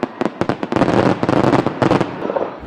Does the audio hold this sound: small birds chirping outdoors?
no